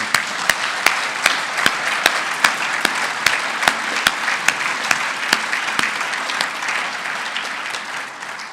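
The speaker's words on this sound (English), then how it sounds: "Let's have one final round of applause." A Hall of Fame induction ceremony crowd gives a final round of applause, a loud, sustained clapping wash with one person's sharp, regular claps cutting through before it begins to fade near the end.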